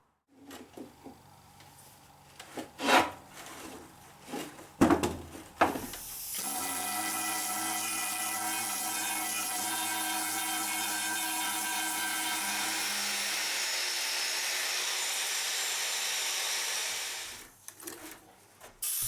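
Paint being stripped from the bed of an old lathe during restoration: after a few scattered knocks and scrapes, a steady loud whirring power tool runs continuously for about eleven seconds, then stops, followed by a couple of faint knocks.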